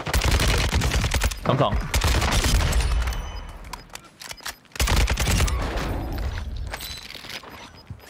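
Rapid automatic gunfire bursts in Call of Duty: Warzone 2.0, loud and close, in two main volleys separated by a brief lull, with a player talking briefly over the shooting.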